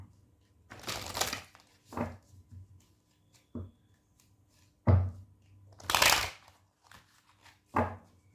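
Tarot cards being shuffled and handled in a few separate bursts of riffling and slapping, fairly close and moderately loud, with short quiet gaps between them.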